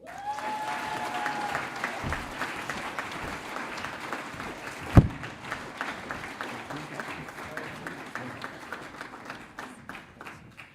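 Audience applause at a graduation ceremony, a broad wash of many people clapping continuously in a large hall, with a sharp bump midway and voices faintly beneath.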